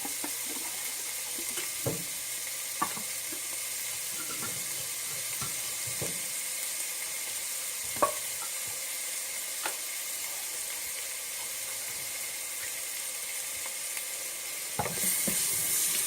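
Onions sautéing gently in a pan, a faint continuous sizzle with occasional soft clicks and utensil taps, quiet and without talk.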